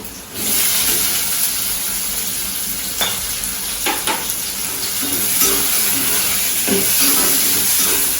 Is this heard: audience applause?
no